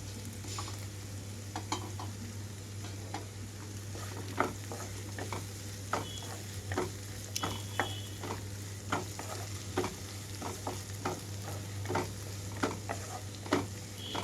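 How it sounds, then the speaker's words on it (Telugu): Soya chunks are stirred into a broad bean curry in a pan, with regular scraping strokes of a spoon over a steady low sizzle, close and moderately loud. "ఇప్పుడైతే ఇందులోకి మీల్ మేకర్ వేసేస్తున్నాను."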